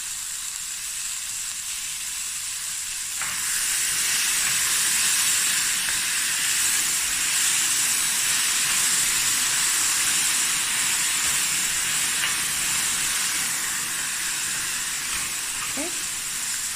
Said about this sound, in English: Okay, stir fry this a bit for a few minutes.